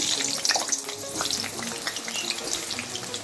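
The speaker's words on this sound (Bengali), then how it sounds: "গরম তেলে কেটে রাখা আলুগুলো খুব ভালো মতো করে ভেজে নিচ্ছি" Cut potatoes fry in hot mustard oil in a wok, a close, continuous crackling sizzle with bright pops and spatters and no talk.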